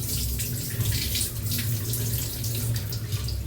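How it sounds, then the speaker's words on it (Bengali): Rice is washed under a running kitchen tap, a steady close rush of water splashing into a pot with grains being swirled, continuous and fairly loud throughout. "তাই আগে চালটা ধুয়ে নিচ্ছি।"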